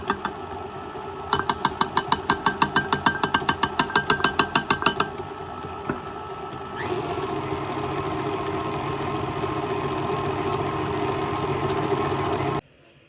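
An electric mixer blends powdered sugar into batter, first with a rapid rhythmic ticking, then a steady whirring motor hum that runs for several seconds before cutting off abruptly.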